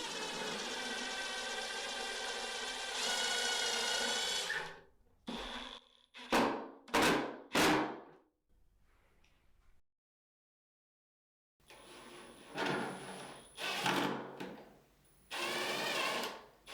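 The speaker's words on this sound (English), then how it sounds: "we will be able to drill in and it will self-tap its way through the drywall" A power drill driving a self-tapping anchor into drywall whirs in several bursts, a long run then short stop-start pulses, pausing in silence before more drilling resumes; close and fairly loud.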